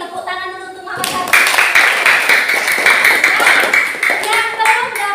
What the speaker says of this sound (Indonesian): Tepuk tangan dulu untuk Muhammad Syarif.